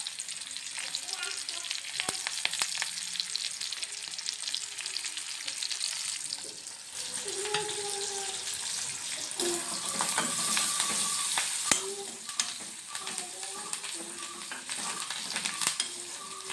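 Onion, garlic and curry leaves fry in hot oil in a pan, a steady close sizzle with crackling pops and occasional stirring scrapes throughout, no voices.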